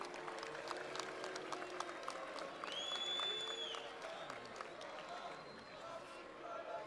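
Crowd clapping and cheering from an audience at a political speech by Averof Neophytou, steady and dense throughout, with vocal calls and a whistle-like tone rising briefly in the middle.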